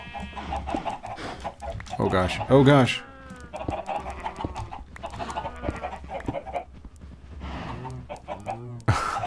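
Chickens clucking and squawking in a Minecraft-style block game, several bursts of near, clustered bird calls mixed with a person talking and exclaiming over them.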